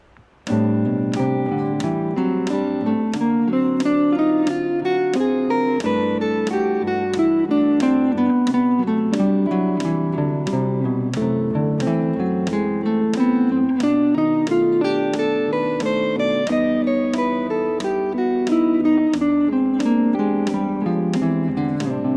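A steady pulse of ticking clicks under continuous melodic scale runs that rise and fall in waves over shifting jazz chord changes, played evenly throughout.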